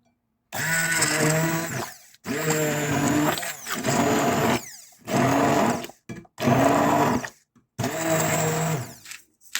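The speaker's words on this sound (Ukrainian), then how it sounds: "Перекидала печінку в посудину, в якій я буду збивати блендером" An electric blender whirs through fried liver for pâté in bursts, six loud runs of several seconds each separated by short silences, heard close up with no talking.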